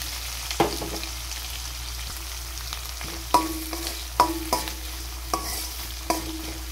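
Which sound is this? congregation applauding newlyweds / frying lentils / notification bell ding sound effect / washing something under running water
frying lentils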